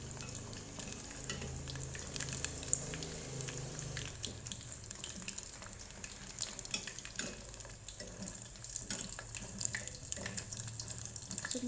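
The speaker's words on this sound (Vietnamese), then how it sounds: "Và tôm này mình phải chiên ngập dầu các bạn nhé." Shrimp deep-frying in a pan of hot oil makes a steady, dense sizzling crackle that continues throughout without a break. No voices are heard over it.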